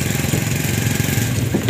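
Motorcycle engine while riding, a steady close buzzing drone with a fast pulsing rhythm and broad wind noise, loud and continuous with no talk.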